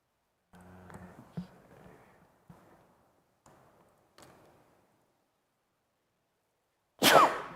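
A single sharp sneeze bursts out loudly near the end of a meeting room recording, after several seconds of faint murmuring and soft knocks.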